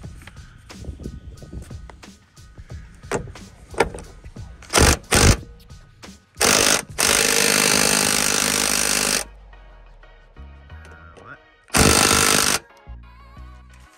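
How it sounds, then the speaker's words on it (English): A seatbelt anchor bolt in a Honda CR-V, heavily coated with thread locker, is loosened with a power tool: several short loud bursts of rattling impact, then a long sustained run and a final burst, close up. "then you undo this bolt right here"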